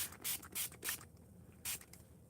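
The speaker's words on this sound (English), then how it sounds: "So I give the back a little spray as well as the front." A spray bottle mists water onto watercolor paper, front and back, in four short hissing bursts with quiet pauses between, close and fairly soft.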